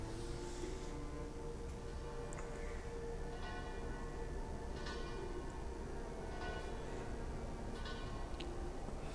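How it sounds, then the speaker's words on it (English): Church bells in the video game Frostpunk ring in a steady, droning chime over dense, busy background noise, with soft sustained tones running throughout. "The sound effects are great as well. Church bells."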